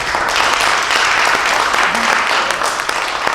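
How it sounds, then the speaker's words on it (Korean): A lecture audience applauds in a dense, steady burst of many hands clapping, loud and close, filling the whole moment without a break. "박수 좀 쳐봐요."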